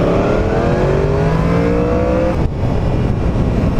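Yamaha FZ10 motorcycle engine revving loudly up close, pitch climbing smoothly through a rising whine before dropping off sharply, then holding a rough idle.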